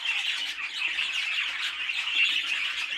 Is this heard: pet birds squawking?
yes